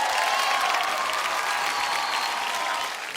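A studio audience breaks into loud, dense applause welcoming a guest on a Hindi stage show, a sustained wash of many clapping hands that holds steady and fades slightly at the end.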